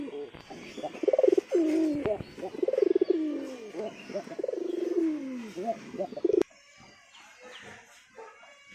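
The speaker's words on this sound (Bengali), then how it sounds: "যাক পায়রাগুলোকে ছেড়ে দিই" Pigeons coo loudly and repeatedly close by, layered throaty calls over several seconds, followed by quieter background sounds after an abrupt drop.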